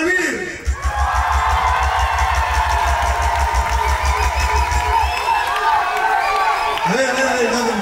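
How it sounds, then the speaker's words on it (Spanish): A crowd at a Jack and Jill dance event in Alicante cheers, whoops and shouts for a team in a loud, continuous roar, with a steady low pulsing beat underneath for the first five seconds. "Aplausos para el equipo David."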